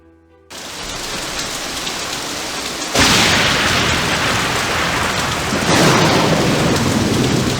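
Loud thunderstorm with heavy rain in the Nancy Drew adventure game Message in a Haunted Mansion, set in San Francisco; steady downpour begins abruptly, swells with a crash of thunder, then surges again near the end.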